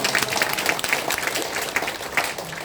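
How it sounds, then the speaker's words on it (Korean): A church congregation applauding steadily after a testimony, dense overlapping claps filling the room without pause. "우리 권사님에게 힘찬 박수 한번 더 드리겠습니다."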